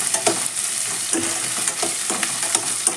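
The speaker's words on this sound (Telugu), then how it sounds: "ఈలోగా ఇందులోకి మనము పచ్చిమిర్చి వేసుకుందాం. వాటితో పాటు అవి కూడా మంచిగా ఫ్రై అవుతాయి." Onions and green chillies fry in a pan with a steady, close sizzle, broken by light scraping stirs every few moments.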